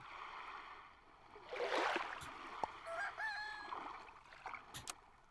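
A cartoonish rooster crow from the Super Auto Pets video game, a short burst of crowing calls with a few clucking blips and clicks, fairly faint and heard alone without talk.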